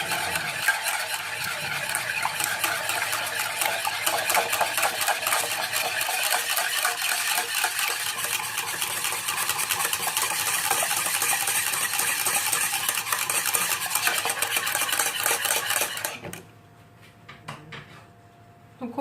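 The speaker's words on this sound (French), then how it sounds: "donc on mélange le tout" A quiche filling of tuna or minced meat with parsley, salt, pepper and garlic powder is stirred in a bowl in a steady, busy scraping and clinking for about sixteen seconds. The stirring then stops, leaving a quiet pause with a few faint knocks.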